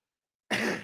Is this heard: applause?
no